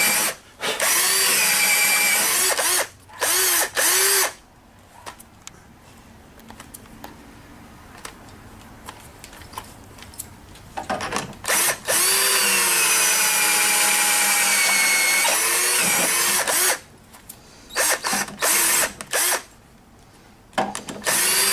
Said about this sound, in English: when you're drilling you need to clear your bit